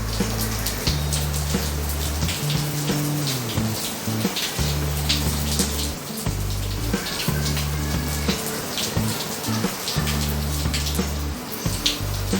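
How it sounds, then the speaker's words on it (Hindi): Water from a pressure washer rushes through the core and blower of a split AC indoor unit and falls below in a steady, close splashing patter, with a low hum running underneath. "प्रेशर वॉश की वजह से पानी कोर और ब्लोअर दोनों के बीच में से गुजर के नीचे गिर रहा है।"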